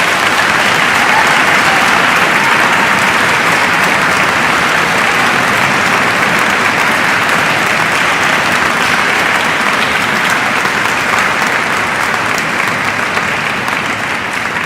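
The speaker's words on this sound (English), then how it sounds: "please can I invite all of our graduates to give them a massive round of applause" A large graduation audience in Canterbury Cathedral applauds graduates, staff, families and friends, a loud, dense, sustained wash of clapping that holds steady for the whole stretch.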